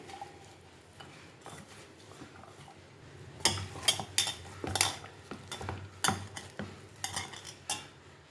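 Jackfruit seed vadai batter with curry leaves is mixed in a bowl, starting quiet and then turning into a run of close, uneven squelching and knocking strokes that grow louder in the second half.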